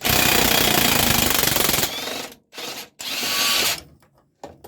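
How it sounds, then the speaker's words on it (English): Makita power tool loosening a tight brake adjustment bolt on an MTZ 52 Belarus 520 tractor, a loud sustained hammering impact burst followed by shorter stop-start runs that trail off. "This is the brake adjustment bolt, and it's really tight. Now, okay, Makita,"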